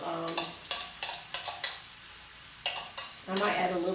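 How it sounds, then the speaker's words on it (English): A spoon scrapes and knocks against a pan while cream of mushroom soup is stirred with vegetable broth for spinach and mushroom pasta, with soft rhythmic clinks over a faint sizzle, close and moderately quiet. "And then I'm just going to stir this around a little bit."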